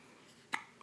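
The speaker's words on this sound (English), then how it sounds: "you have hiccups?" Baby hiccuping once, a short sharp catch of breath, faint and close, followed by a tiny second sound.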